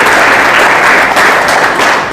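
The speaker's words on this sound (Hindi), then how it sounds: "ताली बजाकर प्रभु को महिमा दो।" A church congregation breaks into loud, sustained applause, a dense wash of many hands clapping together close by for the whole moment.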